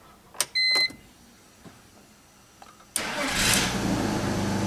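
A BMW E46 engine cranks and catches after a couple of faint clicks, then settles into a loud, steady idle that carries on to the end with no talking.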